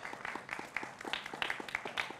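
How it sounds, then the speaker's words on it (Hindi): A studio audience at a televised political debate claps to welcome panelists, a short burst of quick, fairly faint, scattered hand claps. "जोरदार तालियों से स्वागत करिए"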